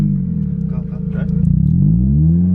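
A Mazda Miata's engine churns through a starting attempt, rumbling low and unevenly before its pitch climbs into a rising rev near the end, with voices briefly talking over it.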